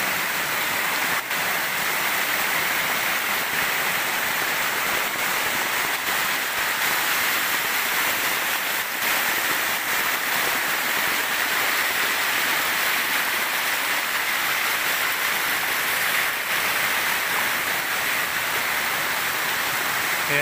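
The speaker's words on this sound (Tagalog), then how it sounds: "Bumulwak na yung tubig." Loud, steady rush of gushing water, broadband and continuous like a torrent pouring close by, with no pauses.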